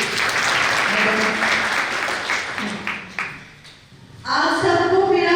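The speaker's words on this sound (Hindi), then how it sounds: "जोरदार तालियां के लिए" An audience at a Republic Day senior citizens' council cultural programme in Delhi applauds loudly. The clapping fades out over several seconds, then a voice rises over the hall.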